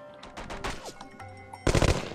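Gunfire in No One Lives Forever 2, a few scattered shots followed by a loud, dense burst of rapid fire near the end, over game ambience.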